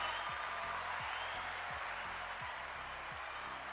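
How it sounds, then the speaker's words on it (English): Live studio audience applause for a guest named Leonard, a steady, faint wash of clapping with a low droning tone underneath, no voices. "Round of applause from a live studio audience for Leonard"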